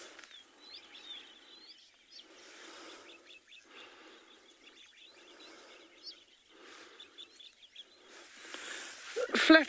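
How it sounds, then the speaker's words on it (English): Wattled starlings call at sunrise on a South African safari reserve, a scatter of squeaky chirps and short bursts repeating every second or so, fairly faint with some quiet rustling and a louder burst near the end. "You can hear the wattled starlings are probably the most vocal of the birds in the area at the moment as well."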